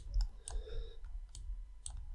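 Computer mouse clicking while working in MyPaint: a few faint, crisp clicks spaced irregularly over a quiet background.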